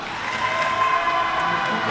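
A crowd cheers at a women's water polo championship final as the Durham team is introduced, a steady, fairly faint wash of distant voices without clear peaks.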